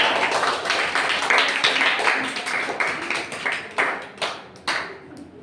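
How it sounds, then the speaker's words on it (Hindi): An audience claps loudly for a child at a school competitive exam prize announcement, the dense clapping thinning into a few scattered sharp claps near the end. "एक बार जोरदार ताली इस बच्चे के लिए"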